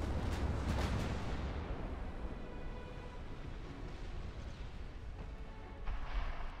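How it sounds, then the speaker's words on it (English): Heavy naval guns boom from a warship's stern turrets in the Ultimate Admiral Dreadnoughts naval battle game, with deep rumbling blasts followed by a sustained roar of gunfire and rolling explosions. "Sovereign firing her stern guns in anger."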